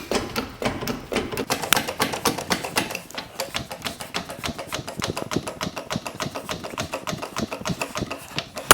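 A hydraulic jack is pumped to raise a Vauxhall Meriva A VXR from a chassis rail, giving a steady, rapid string of close mechanical clicks and knocks that carries on without a break and with no talking.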